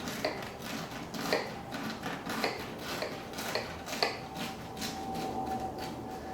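A knife crunches through the crisp crust of Persian tahchin, a baked rice dish, in a series of sharp, brittle cracks spaced about a second apart, with faint scraping between them.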